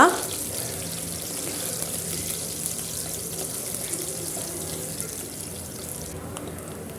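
Dried red chilies and garlic fry in hot oil for a tempering in a Malenad-style horse gram saaru, producing a continuous, even sizzle and hiss that begins with a sharp burst and then settles at a moderate level.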